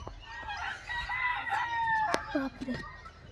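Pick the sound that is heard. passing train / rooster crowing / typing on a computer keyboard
rooster crowing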